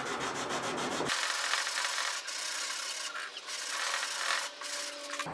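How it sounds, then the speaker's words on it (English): Sandpaper rubbing along a Damascus steel knife blade, a steady close scraping that runs continuously with brief pauses between strokes, with no talking. "It goes a lot faster when you freshen up your sandpaper."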